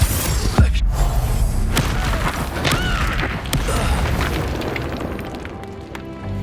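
Spell blasts in the Hogwarts Legacy video game, an Incendio fire spell and a Stupefy stun, burst as booming explosive hits with crackling magical whooshes over dense, continuous combat noise.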